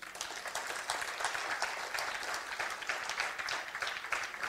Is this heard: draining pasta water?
no